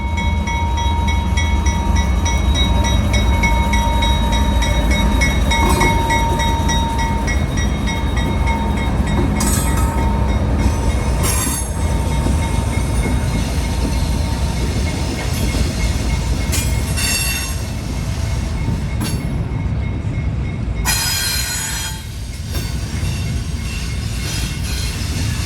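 A long CSX freight train hauling double-stack containers and auto racks rolls past steadily, a continuous loud rumble of wheels with intermittent high metallic squeals and clatter throughout.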